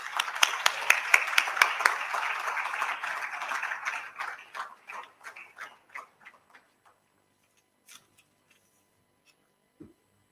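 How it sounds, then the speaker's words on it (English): A ceremony audience claps for a founding member at a new members and high achievers event, brisk applause that starts strong and then thins out into scattered individual claps before falling silent, with a last few isolated claps near the end. "a very huge round of applause to the founding member"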